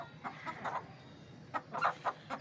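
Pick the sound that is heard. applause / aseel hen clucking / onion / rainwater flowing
aseel hen clucking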